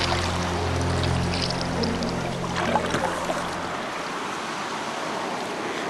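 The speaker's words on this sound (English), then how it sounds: "You've got water flowing off the side of the mountain and into the lake" Mountain runoff pours and rushes steadily into a lake, a loud continuous wash with a low hum fading out partway through.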